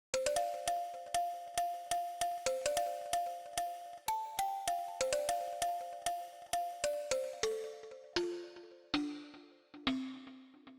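Bottle synth pluck preset for chill house taps out a fast, glassy melody of many short repeated notes that steps lower toward the end, clear and alone.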